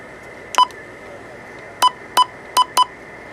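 Five short electronic beeps from a CB radio over steady radio hiss: one alone, then after a pause four more in quick succession, close and clear.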